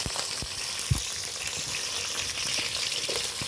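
Thinly sliced onion for wheat flour vegetable noodles fries in a pan, giving a dense continuous sizzle with a few soft knocks and clinks near the start, close and without talk.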